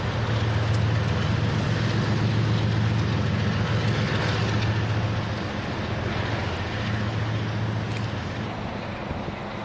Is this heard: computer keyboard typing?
no